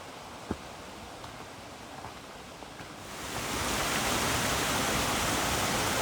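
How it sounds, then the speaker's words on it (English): Steady broadband rushing of water flowing in small streams and springs starts soft, then swells louder after a few seconds into a continuous close wash, with a faint click early on. "There are little springs and streams."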